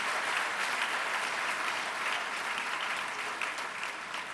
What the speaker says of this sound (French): 2 grandes figures qui honorent l'Afrique, que je vous demande d'applaudir